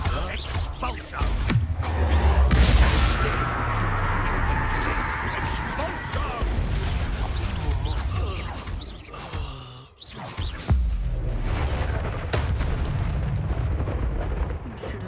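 Spell blasts in Hogwarts Legacy, a continuous roaring wash of magical explosions and bursts, loud and sustained with one brief dip midway.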